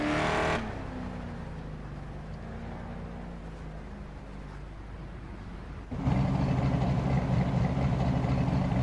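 Cockpit view of a V8 Holden race car in GRID Autosport, its engine idling with a low rumble that jumps to a louder, fuller idle partway through and holds steady.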